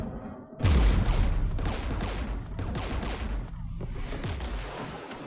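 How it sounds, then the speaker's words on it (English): Heavy gunfire in Mass Effect Legendary Edition during an attack near a jamming tower guarded by anti-aircraft guns, a loud opening blast followed by repeated booming bursts and rolling echoes, with no talk over it. "We're taking fire."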